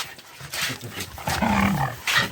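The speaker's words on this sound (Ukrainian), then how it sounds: "Гавкали." Dogs bark outdoors at night in a few close, loud barks, some gruff and drawn out, with a short pause between bursts.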